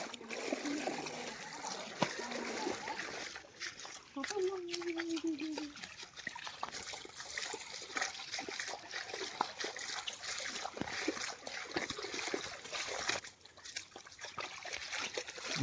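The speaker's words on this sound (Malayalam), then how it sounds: "വെള്ളം സർവത്ര." Floodwater in Upper Kuttanad flows and splashes steadily, with trickling and a spattering of splashes throughout, while people talk over it and a dog may be heard briefly.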